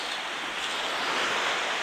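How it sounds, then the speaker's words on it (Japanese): Rough sea surf breaking on an open beach with no breakwater blocks, a steady broad wash of waves and wind noise throughout, with no talking. "波がちょっと荒め。"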